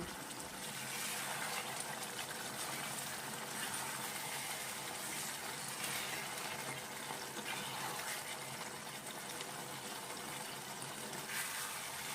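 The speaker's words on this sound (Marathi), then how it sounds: "कोलंबी छान परतवून घेऊ" Prawns simmer in their own released liquid in a pan, a constant soft bubbling and sizzling wash that stays even throughout, with no talking.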